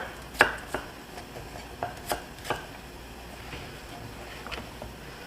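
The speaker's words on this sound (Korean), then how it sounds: "양파 채 썰고" A knife slices an onion into thin strips on a cutting board in a handful of sharp, irregular taps over a quiet background hiss, close and fairly soft.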